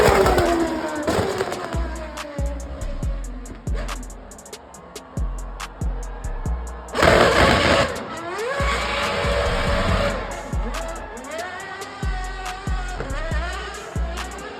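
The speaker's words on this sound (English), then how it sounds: "The first thing you notice when the RB7 blasts past you is the sheer amount of noise that it makes." A Red Bull RB7 Formula 1 car with a 2.4-litre V8 and blown diffuser, revving toward 18,000 RPM on Mumbai streets, roars past loudly, with sharp upshift cuts, rising pitch sweeps and crackling pops throughout.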